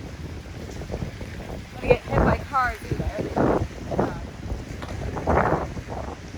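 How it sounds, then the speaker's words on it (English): Strong wind blowing outdoors on a rainy day, gusting and buffeting the microphone in rough surges while a person talks over it. "wind is really picking up"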